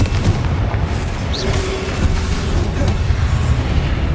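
A Confringo fire spell bursts in Hogwarts Legacy, a loud, deep booming explosion with rumbling low-end roar that lingers throughout, close and dominant with no talk.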